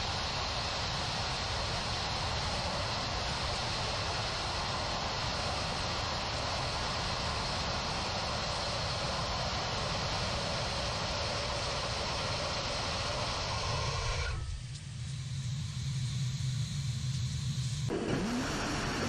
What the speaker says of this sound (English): So this that you'll see is a startup of 2 of their Reaver engines.